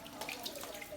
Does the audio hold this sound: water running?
yes